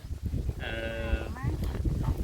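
A single sheep gives one clear, wavering bleat lasting under a second, close by, with people talking and rustling around it.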